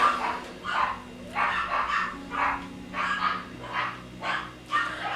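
Several dogs bark repeatedly indoors, loud and close, in rhythmic bursts roughly every half second, with a low whine between the barks.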